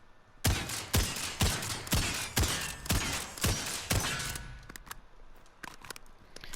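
Dragon's Breath flamethrower shotgun firing in Call of Duty Modern Warfare: about eight loud, evenly spaced blasts in quick succession, each with a roaring tail, followed by quieter scattered clicks and thuds.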